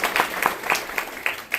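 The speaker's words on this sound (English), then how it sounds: "Another round of applause for Mackenzie," An audience at a live storytelling event claps for a performer, a brief burst of steady, fairly close applause with no voices over it.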